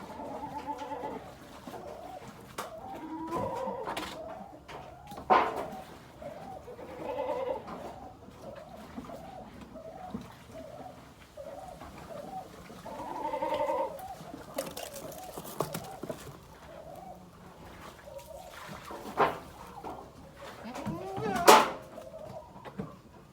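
A restless goat bleats repeatedly, in short cries spaced across the stretch, while its abscess is being treated and drained of pus, close by amid handling noises.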